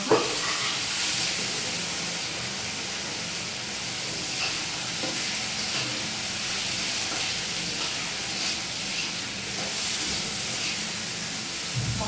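Boiled mung dal goes into a hot pan for a spinach, soybean and potato vegetable dish, producing a steady, loud sizzling hiss with occasional stirring scrapes and no speech.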